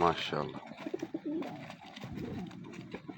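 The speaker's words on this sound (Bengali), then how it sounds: "সবগুলো কবুতরে চলে আসলো এখানে খাবার খাইতে" Pigeons coo while feeding on scattered grain, several soft throaty coos overlapping near the recorder, with a person's voice briefly heard among them.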